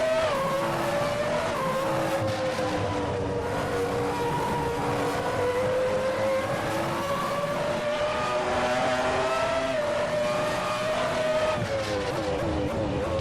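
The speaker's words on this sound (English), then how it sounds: "Also hear the engine doing some scales, warming up for its aria." A 1996 Ferrari F310 Formula 1 car in the racing game Assetto Corsa screams at high revs, its V10 wail rising and falling through gear changes, loud and continuous with tire squeal mixed in.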